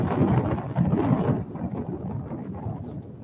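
Gusty wind buffets the microphone in low rumbling bursts, rising and easing over a few seconds with no voices.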